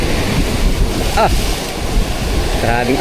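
Loud Pacific Ocean surf rolls and crashes around a tuna fishing boat before dawn, amid gusty wind buffeting the microphone, with a faint voice briefly audible in the background.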